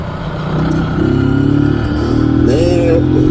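A Zontes G1 Scrambler 125 motorcycle engine idles, then rises into a rev with a throaty, buzzy drone, close and loud, with a short higher whine near the end.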